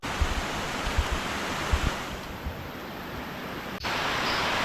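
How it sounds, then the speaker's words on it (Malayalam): A small stream flows beside a hillside temple in Idukki during the monsoon, a continuous rushing wash of water close by with a few soft low thumps, steady throughout and without voices. "ലെഫ്റ്റ് സൈഡിലായിട്ട് ഒരു ചെറിയ അരുവി ഒഴുകി വരുന്നുണ്ട്"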